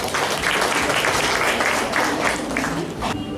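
A school audience at Chitrakoota School in Bangalore gives loud, continuous applause as children come onto the stage, the clapping sustained for a few seconds before quickly cutting off.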